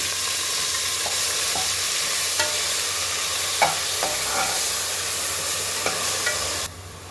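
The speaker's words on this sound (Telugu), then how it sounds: "ఈ తాలింపు వేస్తాను." Tempering spices sizzle in hot oil for a keema curry, a steady loud frying hiss with a few sharp pops and stirring clicks, cutting off abruptly near the end.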